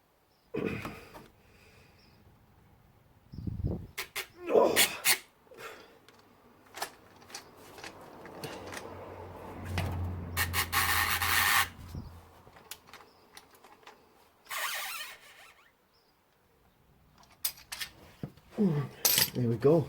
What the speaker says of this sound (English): I've got the long ratchet. Let's see if it grips this can.